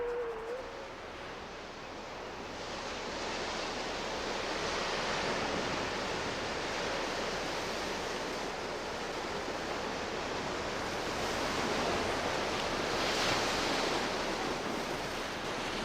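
Winter ocean surf breaking on the shore, a continuous broad roaring wash that swells and ebbs gently, steady and fairly close with no voices.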